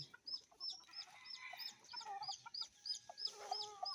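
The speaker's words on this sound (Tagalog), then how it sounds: "Ayan, mga manok niya" Several chickens cluck and squawk in short, overlapping bursts, fairly close and unaccompanied by talk.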